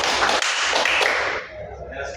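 A group claps together in a counted pattern, a quick run of sharp, close claps that loses force toward the end while talk carries on underneath.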